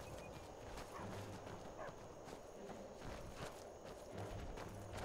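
Horse hooves in Skyrim clip-clop in a quick, repeated rhythm, faint and slightly distant against a steady background hum.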